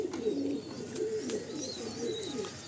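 Young pigeons coo continuously in a loft holding Old Nasal Giribaj birds, low warbling calls rising and falling in a steady rhythm, close and moderately loud, with faint chirps over the top.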